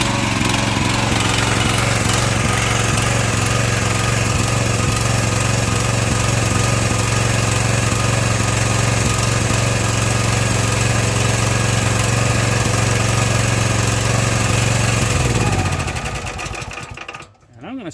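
Small engine of a Chinese power wheelbarrow running steadily at close range, a loud continuous buzzing drone for about fifteen seconds before it is shut off and dies away.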